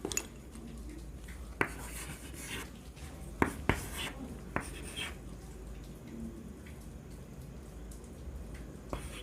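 Pen scratches across paper as an example is written out by hand during a chemistry lesson, a faint continuous scribbling with several sharp taps as strokes begin and end.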